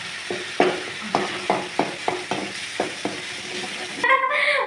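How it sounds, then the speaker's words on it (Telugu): Onion frying in a pan, with a steady sizzle behind a run of regular stirring scrapes and knocks, about two per second, then a brief different clatter at the end. "ఉల్లిగడ్డ బాగా వేయించుకోవాలి"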